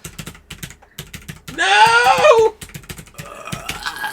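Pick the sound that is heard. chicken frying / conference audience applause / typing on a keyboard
typing on a keyboard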